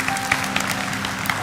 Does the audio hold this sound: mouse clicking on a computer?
no